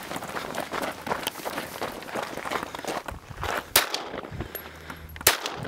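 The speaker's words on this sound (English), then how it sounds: "Pistol." Pistol shots at a tactical shooting challenge on a long outdoor range, two sharp reports cracking out over wind and ambient rumble, spaced about a second and a half apart.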